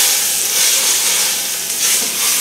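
Beef roasts sauté in the bottom of an Instant Pot, giving a steady, close sizzle and hiss of browning meat that runs evenly with no voices.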